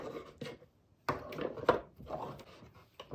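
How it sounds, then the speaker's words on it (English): A kitchen knife chops washed green onions on a board in a few quick, quiet bursts of crisp cutting taps separated by brief silent gaps, close up with no talk. "I'm going to take my knife and I'm going to cut my green onions."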